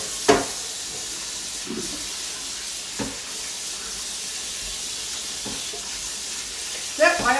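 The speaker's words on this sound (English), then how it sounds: "Now I'm washing up the frying pan." A frying pan is washed under a running kitchen tap, with a steady, soft rush of water and a few faint clinks and knocks of the pan against the sink.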